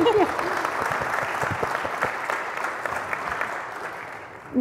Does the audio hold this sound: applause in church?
yes